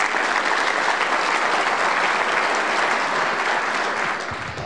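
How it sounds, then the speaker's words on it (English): A large audience at a general session claps in a dense, steady roar of applause, loud and sustained before beginning to taper off at the very end. "So let's give him a round of applause"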